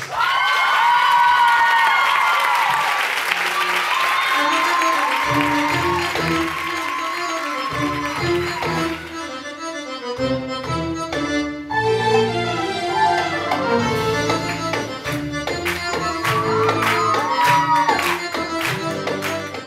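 A crowd at a belly dance show in China cheers, whoops and applauds loudly for several seconds, then rhythmic music with drums takes over while scattered cheering continues.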